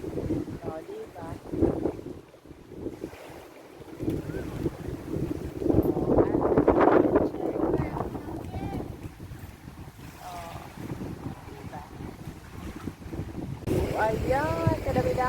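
Wind blowing across an open area near a swimming pool in Singapore, a rushing broadband noise that swells and fades, with people talking over it.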